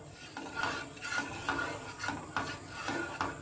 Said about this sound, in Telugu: సిమ్లో పెట్టి తిప్పుతూ ఉండాలి ఉండలు కట్టకుండా